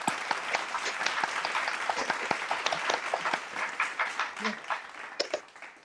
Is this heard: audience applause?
yes